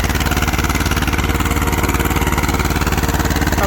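A two-cylinder 312 tractor engine runs at a tractor pulling competition, giving a loud, close, steady low thumping chug with a fast even beat that barely changes throughout, with no voices heard.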